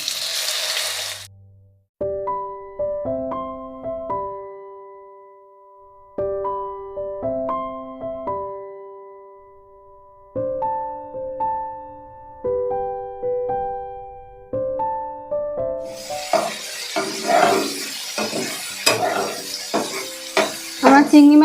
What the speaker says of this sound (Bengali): আমরা চিংড়ি মাছ বেশি সময় ধরে ভাজবো না